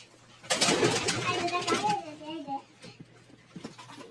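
Lakha pigeons in a home loft coo in soft, low rolling calls close by, partly under a person talking over them, with scattered background noise.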